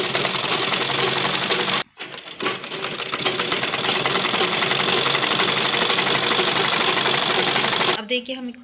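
A sewing machine stitches a lined embroidered suit in a steady, close, continuous whir with a short pause near the start, then falls quiet briefly at the end.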